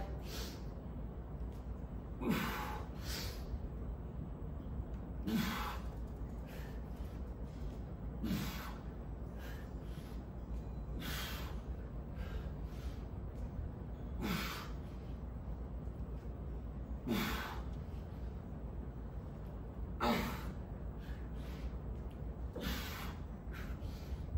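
Heavy breathing during decline pike push-ups, heard as a regular series of sharp, forceful breaths every few seconds over a steady low background rumble, close and alone.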